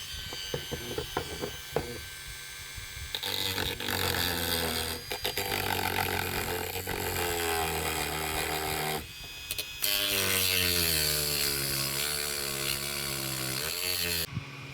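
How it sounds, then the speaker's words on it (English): A Dremel rotary tool with a cutting wheel cuts a slot for a power switch in a hot air popper, giving a loud, sustained high-pitched whine whose pitch shifts under load, with brief pauses and bursts of grinding. "Armed with a Dremel, I put a cutting wheel on it"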